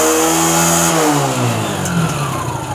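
A TVS motorcycle being repaired for a backfiring problem is opened up to full throttle. The engine roars loud and close, then its pitch slides downward as the revs fall back.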